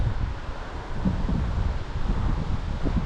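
Strong wind blowing along a riverbank on a fishing outing buffets the microphone in a constant, heavy rumble with gusty low roaring throughout, loud and close, with no voices.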